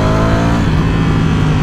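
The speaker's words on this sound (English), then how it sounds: "You can only hear the engine sound from under the tank." A Lamborghini Streetfighter motorcycle with its stock exhaust runs loud and close, the engine revving with a dense, steady roar for a brief moment.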